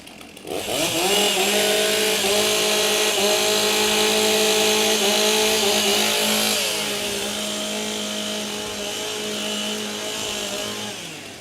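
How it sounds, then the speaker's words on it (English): At the STIHL Timbersports Australian Pro Championship 2025, competition chainsaws rev loudly as they warm up. Several saws drone together in sustained, wavering high-pitched engine whines that ease back slightly toward the end. "Warm up your saws."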